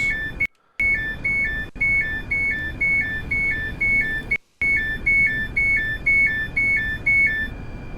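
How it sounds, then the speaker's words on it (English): Train doors opening in Train Sim World at Edinburgh Waverley, a loud repeating two-tone electronic door warning beeping in a steady alternating pattern over a low rumble, broken by two brief drops to silence. "We'll open the doors."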